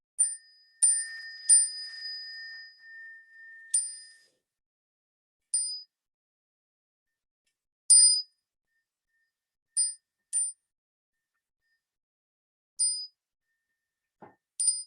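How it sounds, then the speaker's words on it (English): A bell rung during a Buddhist ceremony of bows to the Buddhas and Guan Yin, giving clear, bright metallic strikes spaced irregularly through a quiet room, the first few ringing on while later ones stop short, with no talking. "I'm going to ring the bell 3 times and make 3 half bows to the Buddhas"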